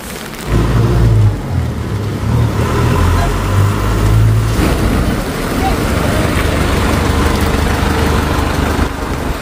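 Jeep engine in La Trinidad, Benguet gives a loud, close, low rumbling drone with a throbbing low engine note in the first half, then continues as a steady rumble.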